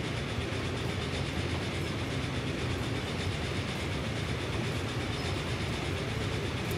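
An Amtrak GP40-2 locomotive in Transport Fever pulls out of a station as a dense, continuous rumble of rolling train noise with faint rhythmic clatter, loud and steady.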